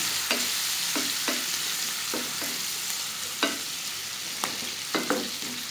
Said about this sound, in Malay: kita akan tumiskan ikan bilis